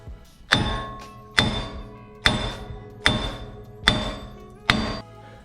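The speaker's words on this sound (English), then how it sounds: "after just a few love taps, we were able to remove the wheel bearings" A sledgehammer strikes a Toyota Tacoma wheel bearing assembly five times at an even pace, each blow a heavy, ringing metallic clang that quickly decays, close and loud with no talking.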